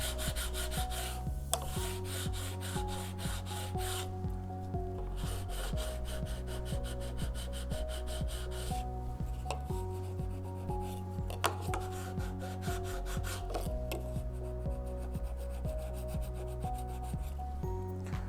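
Excess wax is scraped thinly off restored wooden furniture, a continuous close rhythmic rubbing and scraping that repeats steadily throughout with no talk.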